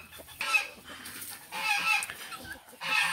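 A female duck of about two months calls in short raspy bursts, three separate calls spaced by brief pauses, fairly close and alone.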